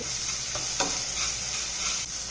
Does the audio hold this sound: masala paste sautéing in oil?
yes